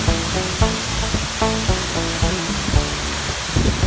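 Steady, dense roar of water pouring down at Bridal Veil Falls near Hope, British Columbia, Canada, heard close at the base of the fall, with a rhythmic musical layer running over the constant rush.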